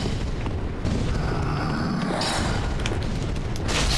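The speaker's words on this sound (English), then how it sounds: "Stop firing magic at me." Booming magic blasts from enemies in Dark Souls 3, a dense, continuous barrage of loud impacts and rumbling bursts filling the whole stretch with no talk over it.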